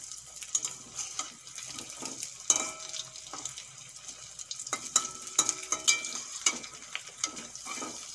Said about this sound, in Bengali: এপিট উপিট লাল করে ভেজে নেব